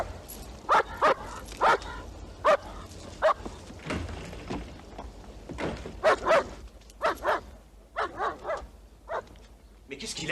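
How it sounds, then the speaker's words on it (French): A dog barks in sharp, repeated yips mixed with whimpers, fairly close, arriving in irregular bursts across the scene. "Mais qu'est-ce qu'il a, ce chien, nom de Dieu?"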